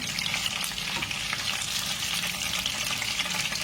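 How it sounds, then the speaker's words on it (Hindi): Kacche qeema kebabs frying in oil in a pan on a stovetop, giving a steady, dense crackling sizzle that stays loud and close the whole time, with no talking. "इसी तरह से और भी फ्राई कर लूंगी मैं। कबाब फ्राई हो गए"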